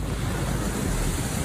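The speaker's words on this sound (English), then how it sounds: "The 200-kilometer-plus winds tossing wheelie bins around like confetti" Strong Cyclone Trevor winds of over 200 kilometres per hour, a loud, dense, continuous roar of wind buffeting the microphone with no pause.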